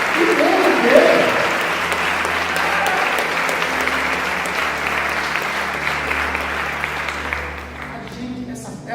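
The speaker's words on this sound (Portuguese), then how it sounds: "Pode aplaudir e glorificar Jesus." A church congregation applauds at a Sunday service, a full dense wash of clapping that holds steady for several seconds before thinning out at the end.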